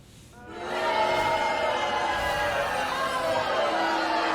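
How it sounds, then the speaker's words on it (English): Dense crowd noise from a video game arena, a sustained booing roar that swells in after a half-second lull and holds loud and steady throughout. "That was the crowd booing Primus"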